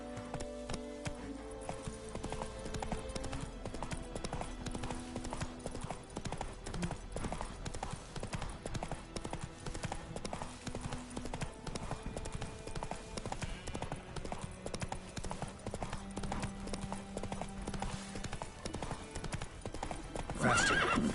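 A horse gallops in The Witcher 3 with steady, rapid clip-clopping hooves throughout, close and prominent, broken by whinnies and neighs, with a rider's voice briefly heard.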